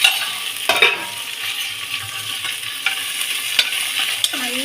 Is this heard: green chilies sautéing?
yes